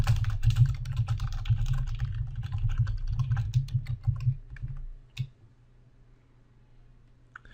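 Keys clatter in quick bursts on a computer keyboard for about five seconds, with a final click before a quiet hum. The typing is close and crisp, and no one speaks.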